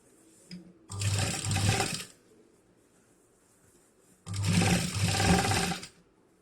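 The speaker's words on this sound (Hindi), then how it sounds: "और पूरा इसी तरह से हमें राउंड में इस तरह से स्टिचिंग कर लेनी है।" A sewing machine stitches around the edge of a large fabric travel bag, running close and loud in two bursts of about a second each, separated by a quiet pause.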